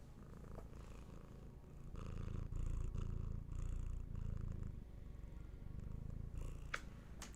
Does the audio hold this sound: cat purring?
yes